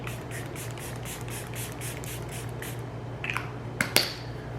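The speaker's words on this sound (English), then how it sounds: "So I just spray it." A rapid series of short makeup setting spray bursts hiss in steady rhythm over a low hum, followed by a few light clicks and taps.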